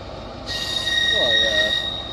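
An eight-coach train at Bristol Temple Meads station rumbles close by, and a sustained high metallic wheel squeal sets in and holds over the steady rolling noise.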